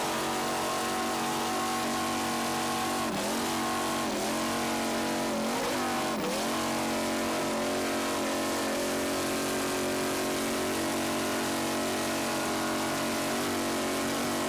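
Racing powerboat in the A-Class of the 1993 Islamorada Budweiser 100, its engine roaring steadily at full throttle for the whole stretch, with brief pitch dips and swells as it runs.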